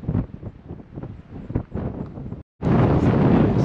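Strong, cold wind at a foggy high spot on Hawaii's Big Island buffets loudly against the microphone in rough, roaring gusts, briefly cutting out before a sustained, even louder blast.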